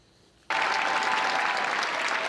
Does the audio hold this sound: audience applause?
yes